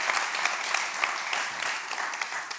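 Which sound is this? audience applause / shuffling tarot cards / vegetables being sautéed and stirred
audience applause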